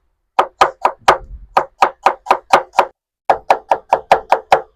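Onion chopped finely with a knife on a cutting board, crisp rapid thuds in quick even bursts, a short pause breaking two runs of about ten strokes each, close and clear with no talking.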